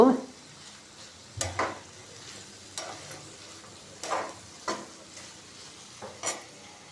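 Cumin seeds and urad dal sizzle softly in hot oil in a pan as a spoon stirs them, with repeated scraping strokes at irregular intervals over a quiet hiss.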